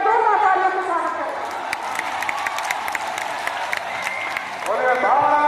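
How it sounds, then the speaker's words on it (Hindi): A crowd at a political rally in Motihari, India, claps and cheers to welcome a politician, a steady patter of applause mixed with whoops, with amplified voices over a loudspeaker at the start and end. "श्री सम्राट चौधरी जी का 2 तालियों से स्वागत है।"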